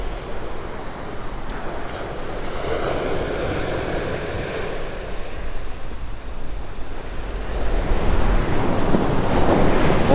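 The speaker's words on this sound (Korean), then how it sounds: "여전히 파도는 엄청나게 치고 있네요. 그래도 바람 부는 거는 많이 잦아들었어요." Big surf crashes onto the beach at Sungeut on the Korean coast in wind that is easing, a loud, continuous roar of breaking waves with gusty rumble that swells stronger toward the end, and no voices.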